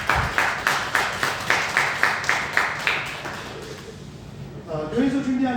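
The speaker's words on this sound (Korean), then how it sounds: "큰 박수로" Applause and clapping from a church congregation, a steady run of claps over the first three seconds that fades out, followed by a voice speaking at the end.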